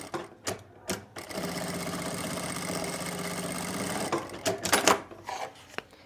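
A sewing machine runs steadily for about three seconds, stitching elastic firmly onto a tulip salwar, with brief handling clicks and fabric noises before and after the continuous run.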